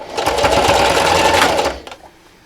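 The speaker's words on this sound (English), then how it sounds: "sew along the bottom, backstitching at the end" Sewing machine stitching along the bottom of a fabric wine gift bag: a close, fast, steady mechanical whir lasting about one and a half seconds, then stopping with a couple of small clicks.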